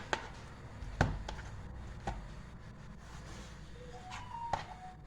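Knife chopping chicken into large pieces for chicken steak, a few sharp irregular blade strikes on a cutting board at close range with pauses between cuts, no talk.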